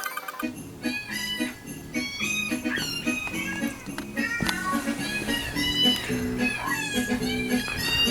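A cat meows several times over busy music playing in the background.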